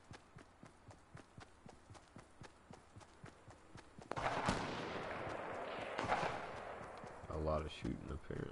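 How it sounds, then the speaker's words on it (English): Gunfire in Fortnite, a regular run of distant shots that gives way to a loud, close burst of heavy firing and a rapid rattling volley, with a player talking over the action. "Shooting apparently."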